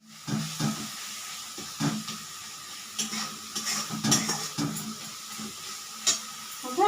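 Onions sizzle and crackle in a pan, with intermittent scraping and stirring knocks from a utensil; no voices.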